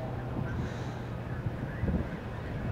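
Faint, low wind buffets the microphone with uneven rumbling gusts, a quiet outdoor background with no clear talk.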